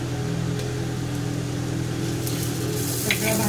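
Whole spices roasting directly on a hot tawa, the masala giving a steady soft sizzle and crackle with a low hum of a gas flame underneath, close and continuous with no talking.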